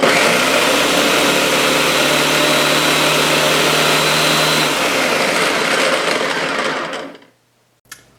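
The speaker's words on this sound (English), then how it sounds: "I'm going to push the power button, and we're just going to watch it blend as we push the pulse button" A blender whirs loudly and steadily as it blends paprika, cayenne, onion and garlic, then winds down and stops near the end, leaving a single faint click.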